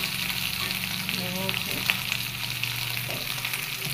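Soybean chunks cook in a generous amount of oil with a continuous close sizzle and crackle, steady in level, with occasional faint clinks mixed in.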